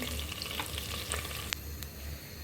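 Onion and garlic paste going into hot oil left from frying meat and potatoes for chicken biryani, giving a steady low sizzle with faint stirring scrapes and one brief clink, no voices.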